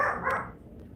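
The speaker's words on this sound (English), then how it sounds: "He won't stop barking." A dog gives a single short bark indoors, fairly close, fading quickly into quiet room tone.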